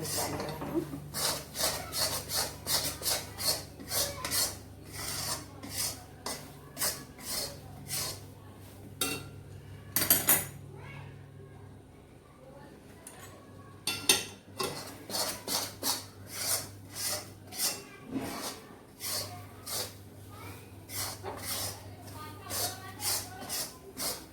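A spoon scrapes and stirs flour roasting in a pan for mohanthal, with rhythmic rasping strokes repeated steadily and close by, a brief pause midway, and a person talking over the stirring.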